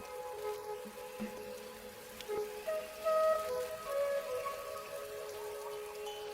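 Steady, fairly quiet rainfall patters continuously in a tropical forest, with scattered drips and faint bird or insect calls over it.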